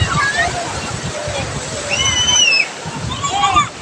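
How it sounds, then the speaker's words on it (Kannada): Sea waves wash and slosh on crowded Murdeshwara beach, a steady rushing surf under the murmur of many people and a few high voices calling out nearby. "ನೀರಿನ ಅಲೆ ರಭಸ ಹೊಡಿತಾ ಇದೆ"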